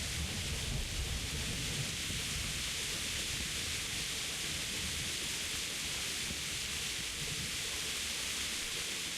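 Steady rain with a low thunder rumble in a medieval open-world game, a dense, constant hiss filling the whole stretch with a deeper rolling undertone near the start, no voices.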